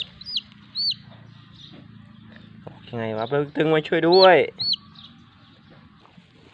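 A baby chick being rescued peeps in several short high chirps, scattered alone at first and then over a burst of a voice talking nearby.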